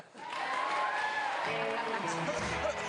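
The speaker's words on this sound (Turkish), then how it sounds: "Güzel bir alkış." Canned applause played as a sound effect in a Turkish TV program, a swelling burst of clapping and crowd noise that holds steady for a few seconds, with tonal sounds mixed in.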